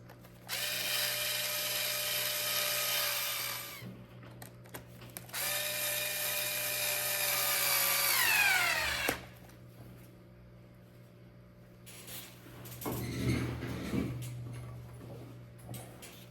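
Power drill driving the last screws into an RC car during a differential repair, two bursts of loud whirring that rise and then wind down, followed by a brief softer rattle of parts.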